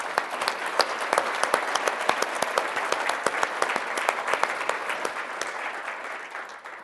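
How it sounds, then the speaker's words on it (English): Audience applause at a manufacturing excellence awards event, many hands clapping in a dense steady patter with sharper individual claps standing out, holding for several seconds and then fading out. "Let's give them a round of applause."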